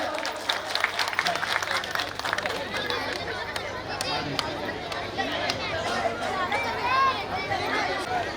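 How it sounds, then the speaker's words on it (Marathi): Audience clapping at a Marathi drama troupe's honouring ceremony for a long-serving musician, a steady dense applause running throughout with crowd chatter and voices mixed in. "जरा जोरात टाळ्या होऊन जाऊ द्या"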